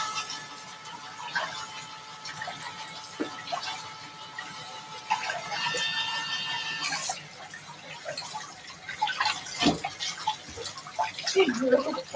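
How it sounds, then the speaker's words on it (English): Water from a tap runs steadily over drained canned plain beans being rinsed in a kitchen sink, a soft hiss with clinks and shuffles of handling, alongside moments of talk. "Get rid of all the liquid that come in, and then I rinse them"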